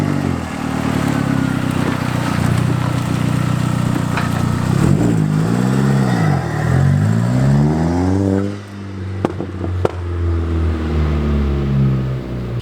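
A slammed VW Golf Mk4 sitting on cheap coilovers drives past, its engine note rising and falling through gear changes. The engine sound is loud and close and continues steadily with no talking.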